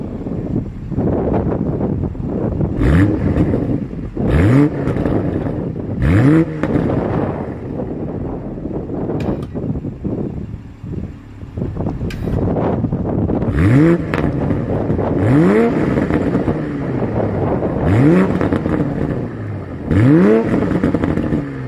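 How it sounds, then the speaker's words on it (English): A 2020 Toyota Supra's exhaust revs hard again and again, each rising roar cutting off sharply, with gusts of wind buffeting the microphone between bursts. "Here is that 2020 Toyota Supra exhaust clip."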